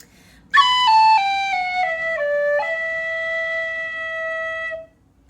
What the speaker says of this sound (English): I'll do it one more time so you can hear that last measure.